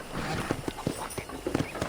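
Horse hooves clip-clop in a steady walking rhythm in Red Dead Redemption, about a dozen soft, evenly spaced thuds over an outdoor ambient bed.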